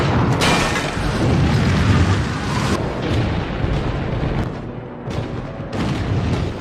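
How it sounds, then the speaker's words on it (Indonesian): A WWII plane crashes and explodes in a war film, a loud sustained roaring rumble with booming bursts that rolls on and eases slightly toward the end. "Pesawat ini pun jatuh dan meledak."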